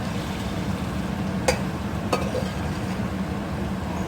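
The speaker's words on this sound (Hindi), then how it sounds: "कितना अच्छा भून रहा है" Mutton browning in a pan for qorma, a steady low sizzle and hiss with two brief sharp clinks of a utensil, close and even.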